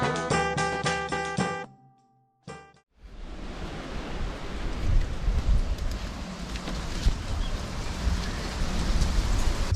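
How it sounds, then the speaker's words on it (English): Steady, loud rain and gusting wind roar continuously in a Bermuda storm after a brief lull, a broad rushing wash with no voices. "It's been really stormy here today, really windy, a bit of rain throughout the day"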